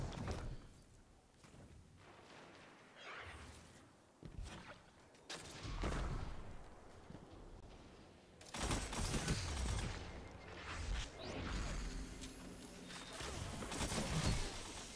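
Video game gunfire in a Trials match: a grenade launcher and a rapid-firing Cerberus rifle, with bursts of shots, booms and shattering impacts that grow denser and louder in the second half.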